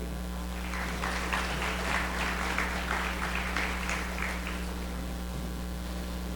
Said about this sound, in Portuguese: gostaria também de referir essa salva de palmas, a Raquel Franzin